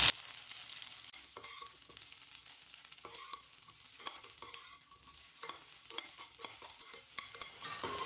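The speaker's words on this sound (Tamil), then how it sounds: "எண்ணெய் நல்லா சூடு ஏறினதும் நான் இந்த வெண்டைக்காவை ஆட் பண்ணிக்கிறேன்." Cut okra sautéing in hot oil, a soft, fairly faint sizzle with repeated light scraping and clinking of a stirring spoon at an uneven rhythm, no one speaking.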